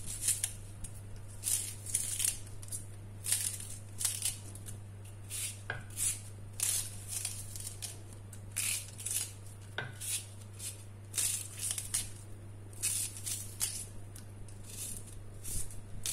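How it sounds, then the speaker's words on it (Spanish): A knife chops leek on a cutting board in a kitchen, with a quick run of crisp close taps in uneven bursts and short pauses, over a low steady hum, with no talk. "Le vamos a picar lo que es el puerro."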